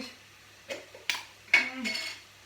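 A utensil stirs beans into a pot of multi-bean chilli, giving a few scattered clinks and scrapes against the pot, fairly quiet and close, with brief bits of talk between them.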